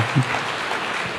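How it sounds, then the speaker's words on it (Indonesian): A brief stretch of steady church congregation clapping, a dense, even wash of applause with no clear individual beats standing out. "Kasih tepuk tangan dulu bagi Tuhan"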